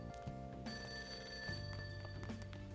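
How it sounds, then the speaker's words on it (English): A payphone rings downstairs in the game Persona 5, repeated bell-like trills in a steady pattern, fairly faint and alone. "That ringing sound isn't coming from my cell phone."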